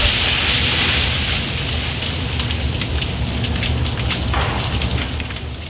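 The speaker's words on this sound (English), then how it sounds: "A viewer sent us the sounds of crackling trees from their yard in Lake Oswego." Ice-laden trees crackle and snap during a winter storm in a Lake Oswego yard, a dense, continuous hiss of icy debris and crackling, loud and steady throughout.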